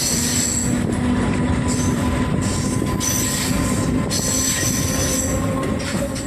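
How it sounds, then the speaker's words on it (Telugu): A train rolls across the bridge over the Godavari river near Rajahmundry, with a steady loud rumble of wheels on rails and high metallic squealing running throughout, no voices. "గోదావరి పైనుండి ట్రైన్ వెళ్తూ ఉంటే"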